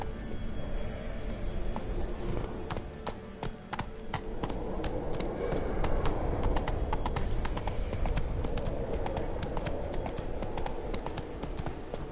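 Roach, the horse in The Witcher 3, trots along with rapid, steady hoof clip-clops on hard ground, loud and close, over a constant rumbling background.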